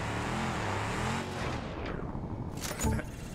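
Car engine with a broken muffler in the BeamNG.drive driving game, a loud, harsh, raspy drone that roars steadily and then surges briefly near the end.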